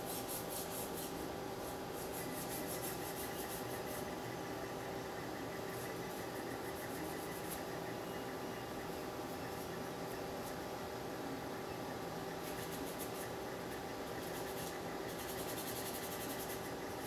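Steady, continuous rasping of sandpaper worked hard against a surface, a dense close scratchy rubbing that runs without a break for the whole stretch at an even loudness.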